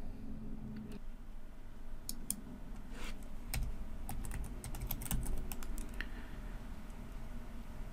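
An email password is typed on a computer keyboard during a clean install of the Windows 10 Fall Creators Update, with steady, close keystrokes clattering in an irregular rhythm over a low room rumble, no one speaking.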